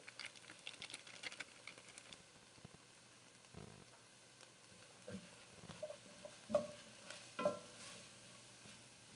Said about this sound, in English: now we're gonna add the savory tagine mix and stir it with the onion